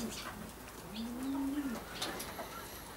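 Racing pigeons coo softly in a loft, a single low rolling coo rising and falling for under a second amid faint ambient noise and scattered small bird sounds.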